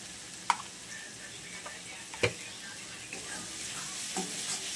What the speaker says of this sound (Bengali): মশলাটা দিয়ে আবার কষিয়ে নেব